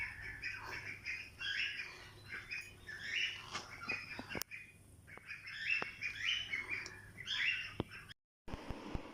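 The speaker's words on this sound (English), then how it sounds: "And bye, bird." Bright bird chirps repeat in quick irregular bursts over a soft outdoor background, fairly close, with a brief dropout near the end.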